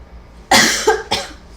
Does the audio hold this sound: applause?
no